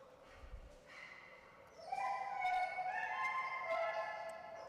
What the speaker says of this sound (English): This is Danielle and her puppy, Risky.